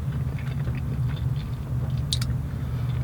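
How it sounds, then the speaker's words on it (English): Someone bites into the crust of a Little Caesars pepperoni and cheese stuffed crust pizza and chews, giving soft, steady close-up mastication with a brief crunchy bite partway through, and no talking. "So we're gonna take a bite out of the crust at the end."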